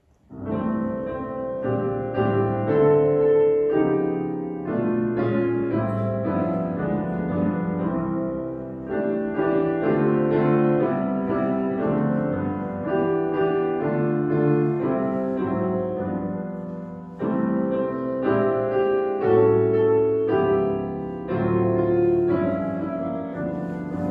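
Piano-like chords with rich, extended harmonies play continuously at a steady moderate volume, moving through a smooth jazzy progression with no voices.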